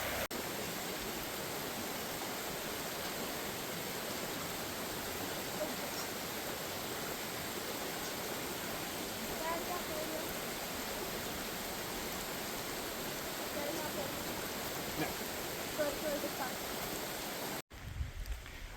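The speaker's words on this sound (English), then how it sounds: "That was a fun water crossing over the cable bridge." Stream water rushes continuously at a water crossing by a cable bridge on an old abandoned road, a steady loud wash with no pauses until an abrupt cut near the end.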